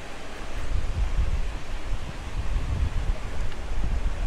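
Strong wind at sea during a fishing trip roars steadily across the microphone in gusty, buffeting waves, with a low rumble throughout and no voices.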